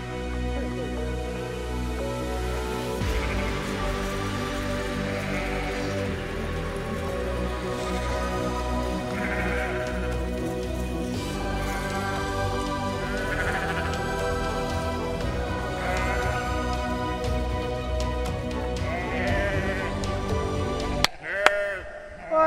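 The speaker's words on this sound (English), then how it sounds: "Sheep, they'll just stop and like clog up a little section." Sheep bleating in a vineyard, a near flock calling almost continuously with overlapping voices throughout, ending in a few brief knocks.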